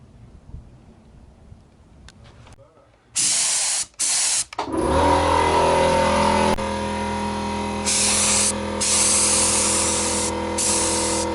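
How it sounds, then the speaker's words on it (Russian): A paint spray gun lays two-component clear coat onto a car body after rust repair: loud, close hissing bursts broken by short pauses, then a long steady spray with brief breaks. "краскопультом"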